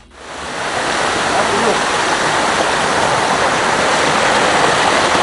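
Rushing river water roars steadily and loudly up close at a river crossing, a dense broadband wash that swells in within the first half second and continues without a break.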